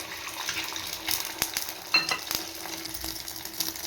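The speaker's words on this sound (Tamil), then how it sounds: "இப்போ எண்ணெய் ஊற்றிட்டு முட்டையை போட்டுக்கலாம்." A boiled egg dropped into hot oil in a pan for an omelette sizzles and spits steadily, with a few sharp pops and clicks close by and no talking.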